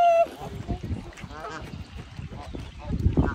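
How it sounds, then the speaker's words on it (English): Ducks and geese honk and call close by while being fed chips, with scattered quacks and splashing, and people talking in between. "We fed the ducks."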